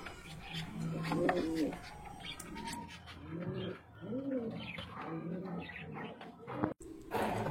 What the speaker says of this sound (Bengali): এটা হচ্ছে ব্ল্যাক কালারের কিং, রানিং পেয়ার, একদম সুস্থ কবুতর